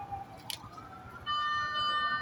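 A fire truck siren at a blaze in Dalandanan, Valenzuela City, beginning partway through as a steady electronic tone over street background.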